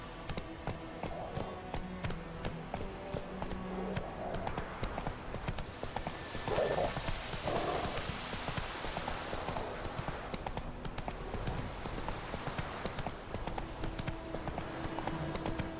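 A horse's hooves clip-clop in steady rhythm in The Witcher 3, with a brief whinny over constant ambient game sound and the hoofbeats carrying through at moderate loudness.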